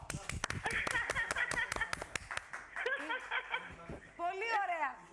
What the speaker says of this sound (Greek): Θα χειροκροτήσω!